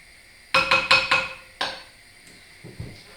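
Pear pieces are stirred into baby breakfast in a pan, a quick run of four sharp metallic clanks of spoon against pan followed by a single knock and softer scraping taps, close and clear.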